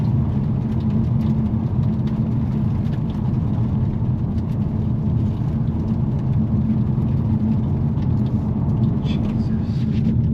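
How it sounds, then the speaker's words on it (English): A Hyundai Elantra N driving a gravel back road, with a steady loud low tire-and-engine rumble throughout and scattered faint ticks of stones hitting the body, recorded from inside the car. "Listen to all that gravel pinging off my car."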